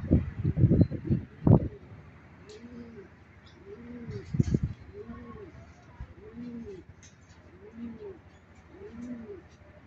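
Pigeons being fed oregano give low, rounded coos, about six evenly spaced calls in a slow rhythm, close by, after a few loud rustling thumps at the start, with a voice speaking briefly early on.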